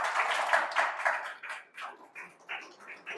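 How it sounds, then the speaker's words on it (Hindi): A classroom of students claps for a classmate who scored full marks on a test, a dense burst of applause that thins into scattered claps and fades out. "तो इसके लिए आप लोग एक जोरदार ताली से स्वागत कर दीजिए इसका"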